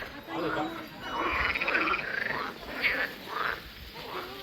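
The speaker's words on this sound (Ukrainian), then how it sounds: "Зайшли, а тут жаби квакають." Frogs croak from a marshy pond at Opole zoo in Poland, a run of pulsing, rasping calls at moderate distance, with faint human voices in the background.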